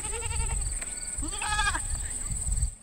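Goats bleat on a dairy farm where goats are milked for cheese, several wavering calls rising and falling close by over a steady high whine and low rumble, with a voice speaking faintly underneath.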